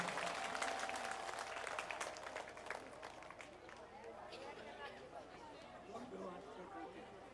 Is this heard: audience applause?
yes